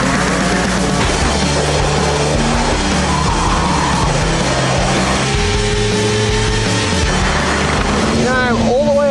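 A Lotus Elise S launches hard, its engine roaring loud and close while the tyres squeal, building through the revs before a sharp skid-like chirp near the end.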